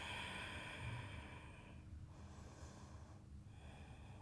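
Slow, steady breathing of a yoga practitioner holding a stretched pose, soft airy inhales and exhales close by over a constant low hum, with no talking.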